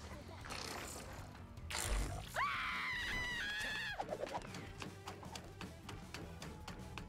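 Screaming taunt in the video game Knockout City: a loud, drawn-out wavering scream of a few seconds rising out of game noise, with a rough growl tailing off at the end.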